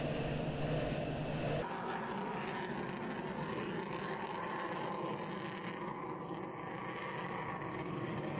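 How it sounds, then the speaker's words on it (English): A Tejas Mk1A fighter jet flies a max rate turn at the Aero India air show, its engine a loud, steady broadband roar that shifts in tone as the aircraft banks, heard at a distance without talk. "it is time to witness the aircraft's agility to carry out max rate turn."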